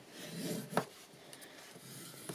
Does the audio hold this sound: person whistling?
no